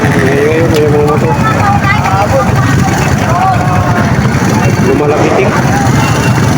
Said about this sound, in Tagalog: Ngayon, may mga motor